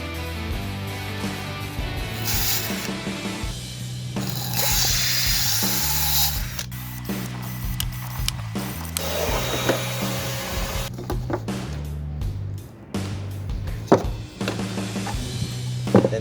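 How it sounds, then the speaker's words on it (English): A 12-inch disc saw cuts bamboo tubes, its motor whining steadily with shifting pitch as the blade bites into the hollow stalks, loud and close, with rattling bursts near the end and no talking. "I started with cutting the bamboo tubes after choosing the suitable inner size that barely fits the bulb size. I used the 12-inch disc saw"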